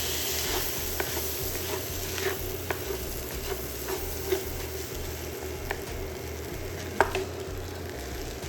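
Soy sauce sizzles in a pan of crab and shrimp fried rice, a steady frying hiss with stirring clatters and scrapes at a few points, fairly close and without talk.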